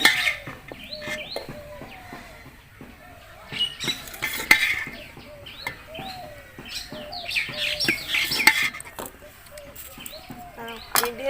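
Thick nolen gur, date palm jaggery, being scooped from a cooking pot into a bowl, with repeated metal spoon scrapes and clinks against the vessels while birds chirp and tweet nearby in the background.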